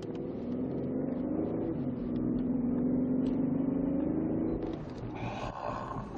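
A Cadillac CTS with a 3.0 V6 engine accelerates from inside the cabin, its engine roar rising steadily in pitch for several seconds before easing off as the revs drop and road noise takes over.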